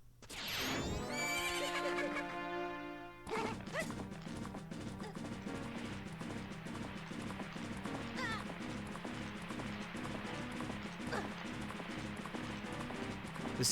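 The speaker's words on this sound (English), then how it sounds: "This isn't OSHA compliant horse riding." Rapid hoofbeats of a galloping horse in The Legend of Zelda: Majora's Mask pound steadily over game music, with a whinny near the start and occasional crashes mixed in.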